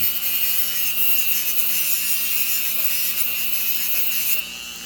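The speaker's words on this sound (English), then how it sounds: "take our moto tool here, and I've got the fiberglass wheel on it" A Dremel-style moto tool with a fiberglass wheel grinds down the outside footing of a model rail, giving a loud, steady high-pitched whine and abrasive rasp that drops off sharply just before the end.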